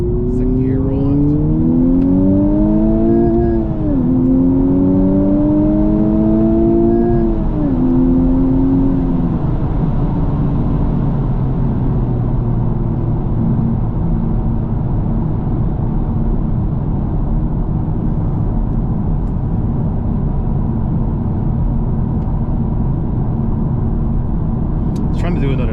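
A Honda Civic Type R accelerates hard in second gear, engine tone climbing in rising sweeps with quick shift dips, then settling into steady loud road and wind roar.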